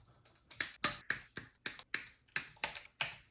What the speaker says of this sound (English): let's go ahead and clip all these zip ties